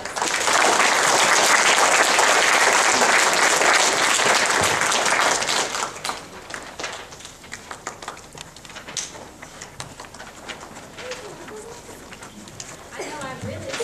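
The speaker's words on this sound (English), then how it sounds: "If you'll give them a round of applause." Loud applause from an audience at a school awards day, a dense steady wash of clapping for about six seconds that then thins into scattered claps with murmuring voices and room chatter.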